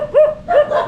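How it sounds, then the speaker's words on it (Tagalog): A dog barks nearby in the rural Philippines, giving a few short, loud yipping barks in quick succession. "May aso na pala dito."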